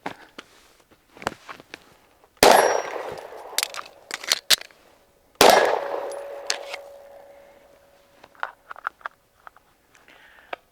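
A Ruger/Magpul RXM rifle fires two sharp shots a few seconds apart, each striking a steel target that rings on briefly. Light clicks and handling noises come between and after the shots.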